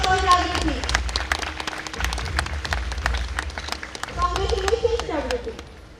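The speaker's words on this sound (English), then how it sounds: "Please give a big round of applause for Jagrati" Audience applause at a school annual social day prize giving, scattered clapping running throughout while people talk over it at the start and again near the end.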